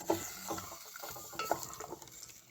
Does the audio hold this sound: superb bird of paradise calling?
no